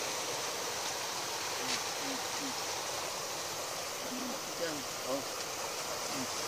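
River water flowing steadily, a continuous broadband rush with faint birdlike chirps over it and no clear talk.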